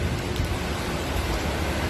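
Steady, even rain hiss fills the scene at a hanging bridge in Antipolo without pause, a dense wash of drops with a low rumble beneath and no voices.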